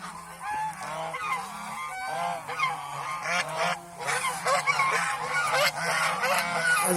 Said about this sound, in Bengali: আমার এখানে পুরান হাঁস মাত্র তিনটা আর সবগুলি নতুন বাচ্চা হাঁস